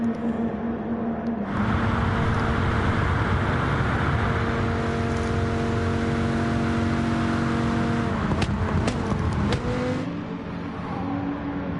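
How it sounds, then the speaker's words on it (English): Race car engine in a PS4 racing video game, loud and steady with harmonic whine, rising and falling as it shifts down through the gears near the end, with brief clicks between changes. "Sounds nice, that car, doesn't it, as it's shifting down the gears."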